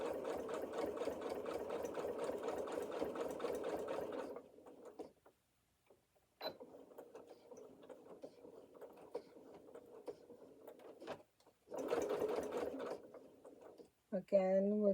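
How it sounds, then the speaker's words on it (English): A sewing machine back-stitches across the opening of an apron pocket in three close runs split by short pauses, with a brief voice near the end. "we're doing a couple back stitching where the pocket opening is, making it stronger"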